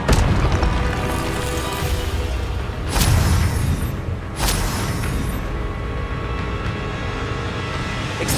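Booming fire-spell blasts in the video game Hogwarts Legacy, loud heavy impacts with two sharp bursts standing out over a dense continuous rumble of combat noise.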